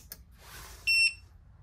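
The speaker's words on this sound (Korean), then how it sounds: "파워를 누르면 삐 소리 나고" A Wanptek WPS3010H DC bench power supply gives a single short electronic beep at power-on, close and clear, after a faint click in a quiet room.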